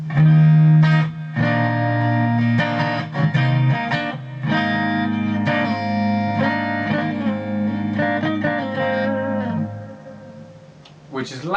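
An Epiphone Nighthawk Custom Reissue electric guitar played through its second pickup position, a high-output single coil, ringing sustained chords and notes up close with a bright, slightly driven tone that fades out near the end.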